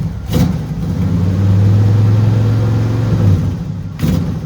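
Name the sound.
car engine running after cold start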